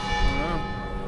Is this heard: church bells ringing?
yes